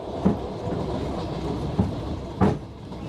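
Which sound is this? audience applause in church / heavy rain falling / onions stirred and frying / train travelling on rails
train travelling on rails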